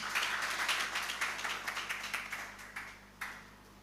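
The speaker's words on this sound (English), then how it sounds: "We clap for the team." An audience at a Ugandan forex bureau and money remittance association's 25th anniversary event claps for the team, a fairly faint, moderately sized round of applause that thins out and fades toward the end.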